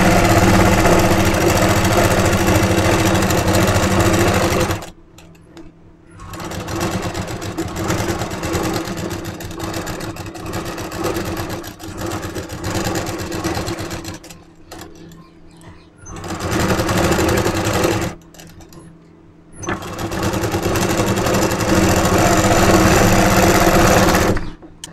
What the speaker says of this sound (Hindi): अब इस पर लगाते हैं हम सिलाई